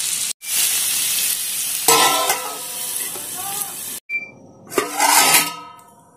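Aloo beans sabzi, potatoes and green beans, cooking under a lid in a pan, giving a steady close sizzle and hiss with brief stirring scrapes and a short clatter of the lid.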